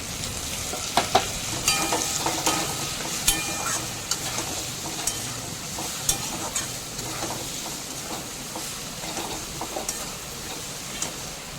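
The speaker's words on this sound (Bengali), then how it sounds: "আলু ছোলা ডালের সাথে আদা কাঁচা লঙ্কাটা খুব ভালো মতো করে কষিয়ে নিচ্ছি।" Potatoes, chana dal, ginger and green chili sauté in oil with cumin, coriander, turmeric and red chili powder for a banana-flower curry, giving a loud continuous sizzle with frequent ticking spoon-stirring clicks throughout.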